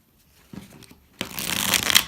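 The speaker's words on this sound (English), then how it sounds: "So let's shuffle." A deck of tarot cards is shuffled up close. A soft riffle comes first, then a louder, longer ruffling flutter of cards that builds toward the end.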